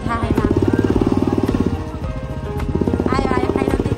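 A Royal Enfield Bullet motorcycle engine labors loudly on a road torn up by a landslide, a steady low thumping drone that dips briefly midway and then rises again.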